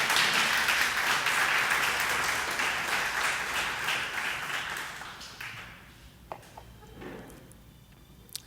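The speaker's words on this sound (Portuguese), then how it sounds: "Dê uma salva de palmas para Jesus Cristo." A church congregation gives a round of applause, dense clapping at first that gradually thins and fades out, leaving a few scattered claps and taps near the end.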